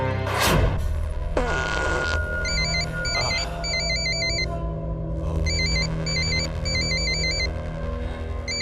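A phone rings in a Bhojpuri film scene, its electronic ringtone repeating in bursts over a low background score after a sharp whoosh and thud at the start.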